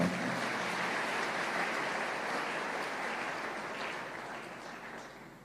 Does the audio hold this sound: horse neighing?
no